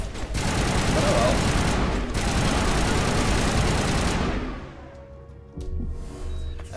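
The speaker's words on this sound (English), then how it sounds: "they're shooting us?" A heavy continuous burst of gunfire from the Mass Effect video game roars loud and dense for about four seconds, then cuts off, leaving scattered lighter shots and background noise.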